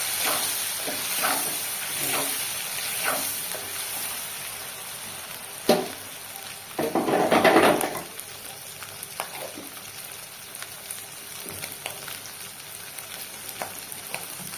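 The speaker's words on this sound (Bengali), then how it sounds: "হলুদ দিয়ে ভালো করে ভেজে নেবো" Turmeric sizzles in hot oil in a pan, a low steady fry broken by scraping stirs and a louder burst of hissing midway.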